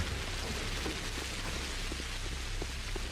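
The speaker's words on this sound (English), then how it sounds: "We've got full rain. We've got lightning." Rain in the video game Pathologic Classic HD falls as a steady, even hiss with faint scattered drops throughout.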